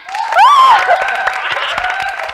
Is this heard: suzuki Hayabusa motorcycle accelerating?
no